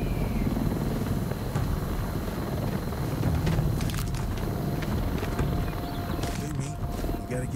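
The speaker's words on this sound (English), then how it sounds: "That chopper's got my name on it!" A helicopter in the zombie VR game Arizona Sunshine 2 is heard as a loud, steady rotor drone and engine rumble throughout, with a few brief clanks and noises over it.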